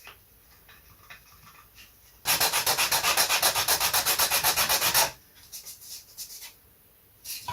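Hand sanding of wood on a Sopwith Triplane model aircraft, a steady rapid back-and-forth scraping burst lasting about three seconds, close and loud, between quieter stretches of light handling noise.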